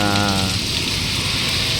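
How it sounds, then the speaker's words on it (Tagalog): Steady heavy rain pours in the town of Tayabas, a dense, even hiss that never lets up, with a brief voice heard at the very start. "Puro ulan."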